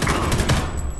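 Gunfire in the first-person shooter Homefront: The Revolution, a quick burst of several loud close shots in rapid succession, packed into about a second.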